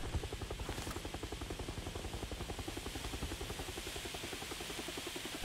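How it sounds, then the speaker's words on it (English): An aircraft idles just outside a door in a video game, its engine throbbing with a steady, rapid rotor-like pulse that hums on without change. "Why is this plane just chilling outside my door."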